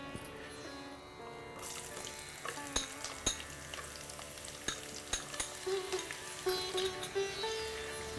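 Onion and garlic frying in hot oil with whole spices for mutton korma, giving a continuous close sizzle with crackling pops, while a spoon stirs and scrapes the pan in irregular strokes.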